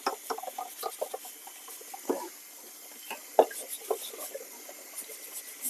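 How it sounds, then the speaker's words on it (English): Aquarium filter parts from a low-tech 37-gallon reef tank being rinsed under running water, a steady close wash broken by scattered splashes, knocks and rubbing sounds. "What you hear is me cleaning the filter parts real quick."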